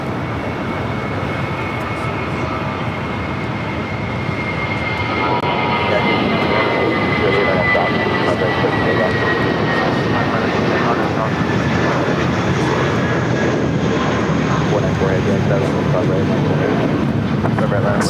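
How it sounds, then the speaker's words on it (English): A Spirit Airlines Airbus A320 takes off at LAX, its jet engines a loud, sustained roar with a high whine running through it, growing stronger partway through, while people talk over it. "Next takeoff is Spirit Airlines Flight 1043 heading to San Antonio, Texas. It's another A320 with the birthday cake livery."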